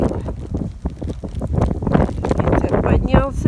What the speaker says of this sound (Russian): Ветер поднялся, ветер.